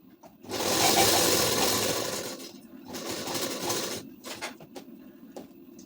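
A sewing machine stitches the sleeve seam of a ladies' suit in a loud, dense run for about two seconds, then slows into shorter, uneven bursts with brief pauses.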